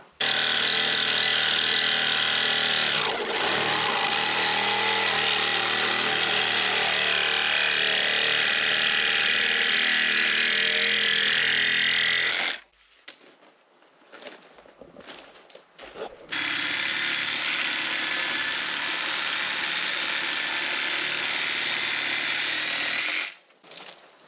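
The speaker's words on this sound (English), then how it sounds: "we're going to cut all these bolts off flush with the top of the nut" A Sawzall reciprocating saw cuts anchor bolts flush with the nuts on a sill plate at an off-grid home build. Two long, loud, sustained cuts are separated by a short lull with clanks and handling noise.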